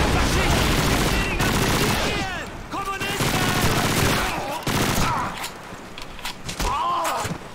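Machine gun fire in Call of Duty 2: rapid, loud bursts of gunfire repeat through the whole stretch in uneven rattling volleys, with someone talking over the shooting.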